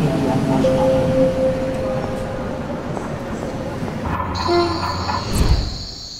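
A train on the Azerbaijan railway rumbles past nearby with steady clattering and hum, then a loud horn blast and high wheel squeal near the end.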